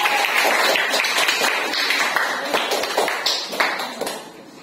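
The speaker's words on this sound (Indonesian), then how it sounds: "silakan kita beri tepuk tangan untuk kelompok 1 ya" Students in a classroom clap for a presenting group, a close, fairly loud burst of hand claps that gradually thins and fades near the end.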